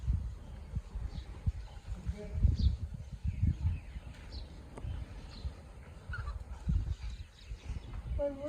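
Chickens cluck softly and intermittently at a moderate distance in a village vegetable garden, with scattered short calls over low rustling and faint background noise.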